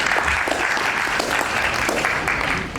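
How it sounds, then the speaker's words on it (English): Audience applause at an opening ceremony for a World Soil Day celebration, dense steady clapping from a crowd filling the hall, loud and continuous throughout, tapering slightly at the end. "A round of applause for him once again"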